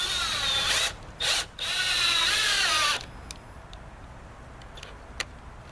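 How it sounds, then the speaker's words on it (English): A 7/16 socket driving a 3-inch lag screw with a washer: a loud, whirring run of about a second, a short pause, a brief burst, then a longer steady run, followed by faint scattered clicks. "lag screw with the washer. And this is a 7/16"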